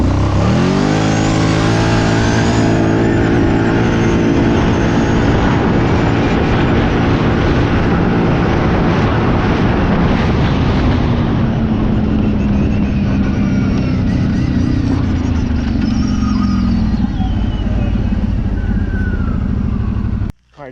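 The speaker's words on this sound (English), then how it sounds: "I just got done running for the first time, pretty much full throttle to that tree like we did with the factory setup." Kawasaki Brute Force 750 ATV on mud tires in two-wheel drive accelerating at full throttle, a loud continuous engine roar with rising harmonics as it pulls through the gears, dropping away abruptly at the end.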